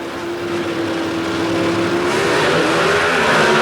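Ford Fairmont and Chevrolet Camaro drag race cars launching side by side at the 1980 NHRA US Nationals, a loud sustained engine roar rising steadily in pitch as both accelerate down the strip.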